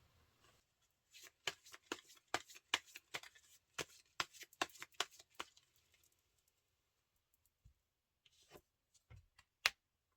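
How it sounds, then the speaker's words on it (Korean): Tarot cards being shuffled and drawn: a run of crisp, close card slaps and flicks in a quick irregular rhythm, then sparse single snaps after a pause, against near silence. "이쯤에서 좋은 카드 한 장 뽑아 볼게요"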